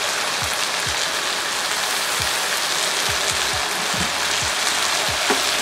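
Salted fish hisses and crackles in a hot pan with oil and chili, a dense steady sizzle punctuated by scattered soft knocks, close and with no voices.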